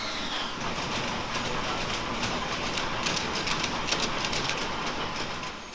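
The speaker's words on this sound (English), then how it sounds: "the big machine behind me is the carding machine" A large carding machine combing wool at a woolen mill, running as a steady, loud mechanical clatter with rapid ratcheting ticks and a dense whirring hum throughout.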